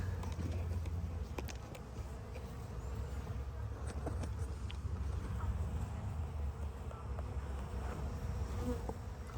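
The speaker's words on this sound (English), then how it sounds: "I'll let you watch the bees" A dense, steady buzz of many honey bees around a hive with a newly added super of wax foundation, continuous and close, with occasional faint clicks and a low rumble beneath.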